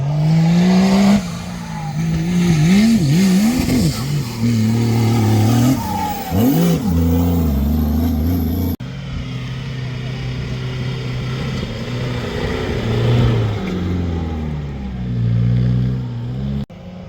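An off-road patrol car revs hard through mud, its engine climbing and dropping in repeated loud surges close by, with a steadier rumble in the second half.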